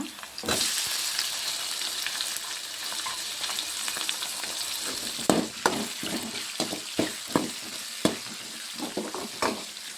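Okra and vegetables fry in oil with ginger-garlic paste and tomato for a village-style gojju, giving a steady close sizzle with frequent sharp stirring scrapes and clinks in the second half.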